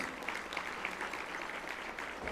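A Hall of Fame ceremony audience applauds the sponsors, a fairly quiet but continuous rush of many people clapping heard from some distance, steady without pause.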